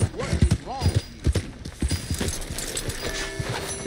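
Horse hooves clip-clop in Red Dead Redemption 2, a series of sharp, fairly close hoof strikes mixed under ongoing talk and other game sounds.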